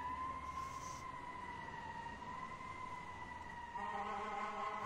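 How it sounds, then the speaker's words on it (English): A fire engine siren sounds as a steady, loud wailing tone that holds its pitch throughout and becomes richer and more layered near the end, with no speech over it. "Fire engine, fire engine, fire engine, fire engine."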